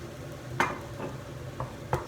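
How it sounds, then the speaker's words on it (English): Vegetables for caponata sizzle in a pan over a low steady hiss, with a few sharp stirring scrapes and clatters at irregular intervals. "I'm frying it in this way. Just a stir fry sort of thing."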